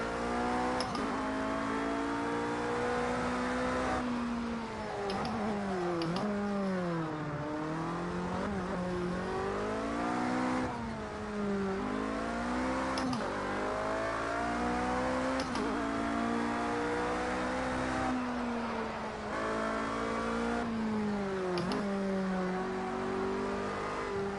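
In the racing game Project Cars 2, a car engine revs and shifts repeatedly, climbing through gears with sharp drops between upshifts, loud and continuous throughout with occasional tire noise.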